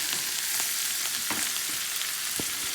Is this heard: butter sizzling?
yes